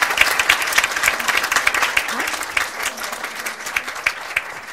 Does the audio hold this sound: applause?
yes